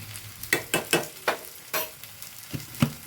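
Crushed chili and Kashmiri chili powder stirred in a hot pan, a spoon scraping through the sizzling oil in several distinct close strokes over a continuous low fry.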